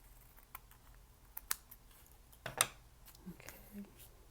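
Scissors cutting quilt fabric in a quiet sewing room: a few sharp, close snips and clicks spaced over a few seconds against a low, faint background.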